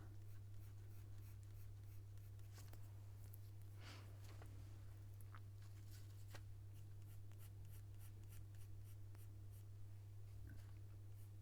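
Colored pencil scratching and shading on paper in a puppy fur drawing, soft close strokes with a few sharper scrapes, faint and steady over a constant low electrical hum.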